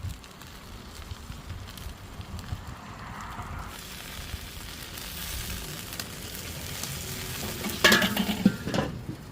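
Italian dressing baste for chicken thighs is stirred in a container beside a Weber kettle grill, soft scraping and liquid swishing under faint sizzling, with a brief sharper clink near the end.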